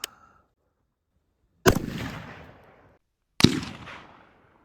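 Two sharp suppressed rifle shots from an AR15 ring out about two seconds apart, each a loud crack followed by a short decaying echo, with a faint click at the start.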